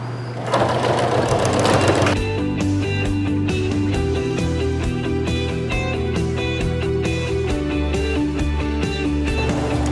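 A sewing machine runs steadily, stitching a sweatshirt sleeve seam in one continuous pass, its motor hum and rapid needle clatter loud and close throughout with a brief burst at the start and no talking.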